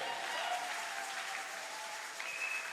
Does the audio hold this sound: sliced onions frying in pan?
no